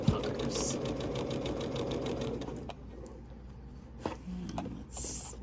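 A sewing machine stitching a woven top whirs steadily and close for about two and a half seconds, then stops, leaving quiet fabric handling and a few soft clicks.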